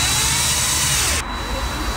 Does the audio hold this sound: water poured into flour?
no